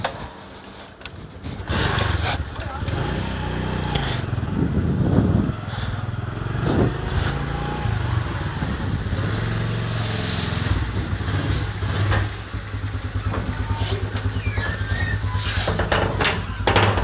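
Motorcycle engine running steadily while riding to the vegetable market, a continuous loud drone with wind and road rumble and shifts in revving throughout.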